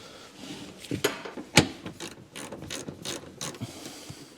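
A big bolt tightened on a yellow Porsche 911 Turbo gives off close, irregular ratchet clicks and mechanical clatter, with one sharp louder snap midway, and no talking.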